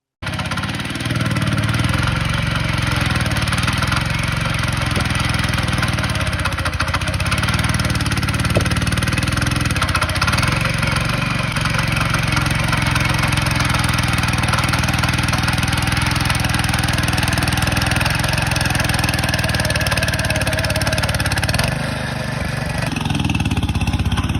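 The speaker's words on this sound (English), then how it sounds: "my husband brought out the tiller and got to work breaking up the soil" A garden tiller engine runs steadily while breaking up soil, a loud continuous mid-pitched drone close by with slight load changes, and no voices.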